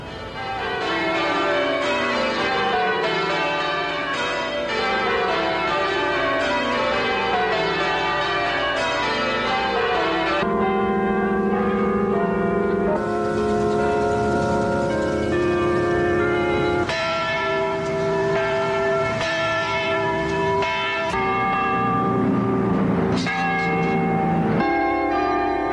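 Church bells ringing at noon across America, a sustained peal of several bells with overlapping strikes and long ringing overtones, loud and continuous with no talk.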